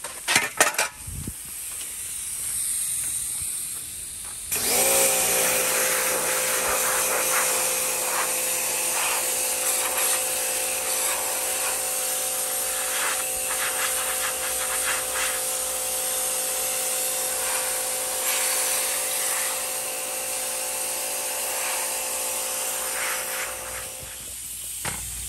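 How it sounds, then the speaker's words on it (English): Pressure washer spraying down car parts such as the hood, a steady loud hiss of water jet with a constant motor hum running nearly the whole time, after a brief rattle at the start. "While I have the pressure washer out, might as well do these."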